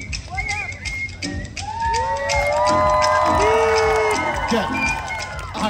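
Crowd at a sea lion splash show cheering and shouting in a loud, swelling roar that builds and holds, with excited children's voices and an announcer speaking over the start.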